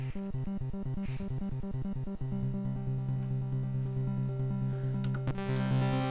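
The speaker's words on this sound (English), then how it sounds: "there's two types of arpeggiator I've got here. The first involves playing notes" Arpeggiator on a Raspberry Pi-based Commodore 64-style synthesiser: rapid, evenly pulsing chiptune notes cycling through a chord, then settling into steadier buzzy tones, continuous and moderately loud with no talking.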